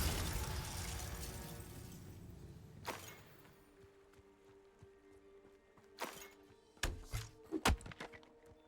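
In the video game Hogwarts Legacy, a Glacius ice spell bursts with a loud, noisy crash that decays over a few seconds, followed by several sharp, separate cracking and shattering hits.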